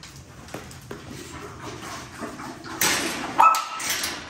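Puppies give short yips and barks mixed with high whimpers, close and fairly loud, in a brief burst of several calls with a human voice faint in the background.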